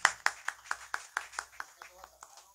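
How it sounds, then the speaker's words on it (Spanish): A small group claps in a quick, steady rhythm of sharp hand claps, about a dozen in a row, fairly close and loud. "El aplauso fuerte"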